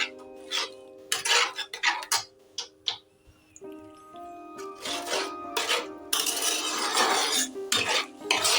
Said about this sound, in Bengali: আবার আমি কিছুক্ষণের জন্য এটা কষিয়ে নেব।